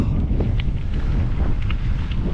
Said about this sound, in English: This headwind is unbelievable.